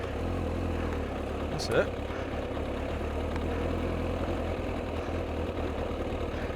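A Kawasaki ZX-9R motorcycle engine idles steadily nearby with an even, unbroken rumble, while a voice speaks briefly.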